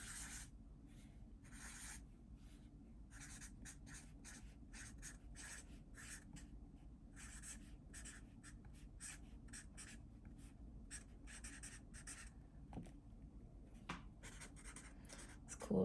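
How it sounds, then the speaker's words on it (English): A chisel tip pen scratches out lines on paper in quick bursts of short strokes, very faint and close, with small gaps between marks and no talking. "It's a chisel tip, so hard to write with a little bit, but fun to make lines with."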